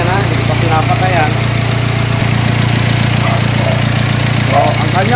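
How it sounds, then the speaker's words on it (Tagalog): A steady engine idles with a constant low hum throughout, while people talk over it. "tingnan po ninyo, maandar yung makina natin"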